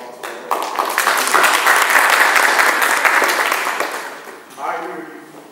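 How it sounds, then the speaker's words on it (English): A round of applause from attendees at a community meeting of the LGBT Center of Charlotte: dense, loud clapping from a roomful of people that swells, holds steady for several seconds, then thins out, with a voice rising briefly near the end. "Give yourselves a round of applause for that."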